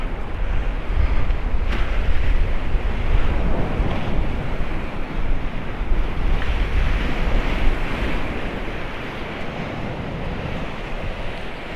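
Storm-driven sea waves surge and break steadily along the Paphos seafront in Cyprus after a November storm, a loud continuous roar of surf mixed with gusting wind buffeting the microphone, with no voices.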